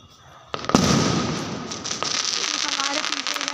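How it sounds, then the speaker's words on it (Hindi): Firecrackers burst outdoors in a street during a family festival, a sharp crack followed by crackling and fizzing that carries on under a dense background of distant bangs and crowd noise, with voices in the background. "अभी देखिए वहाँ पे बहुत से लोग पटाखे जला भी रहे हैं।"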